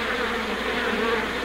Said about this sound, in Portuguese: Para remover um enxame de abelhas ativas, como este, Chadwick começa